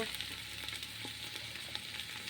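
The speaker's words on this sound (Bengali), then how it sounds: "পেঁয়াজ রসুনটা হালকা করে ভেজে নিয়েছি" Onion, garlic, green chili and whole spices like bay leaf, cinnamon, cardamom and cloves sizzle steadily in hot oil for khichuri, a continuous close frying hiss with faint stirring clicks and no talk.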